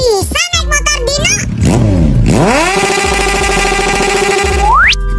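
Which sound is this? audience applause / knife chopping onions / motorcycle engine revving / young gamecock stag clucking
motorcycle engine revving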